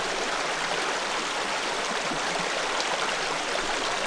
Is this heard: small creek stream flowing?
yes